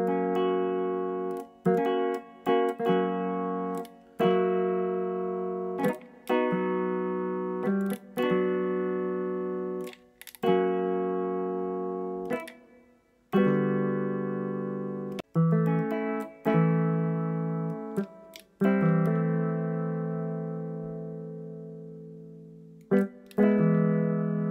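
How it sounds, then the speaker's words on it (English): A homemade four-string guitar-style MIDI controller built around a PIC 16F84, with bicycle inner-tube rubber strings pressing tactile switches, drives a synth module through a run of sustained chords that change abruptly, each starting with a sharp click. "It's a four-string guitar-type MIDI controller using a PIC"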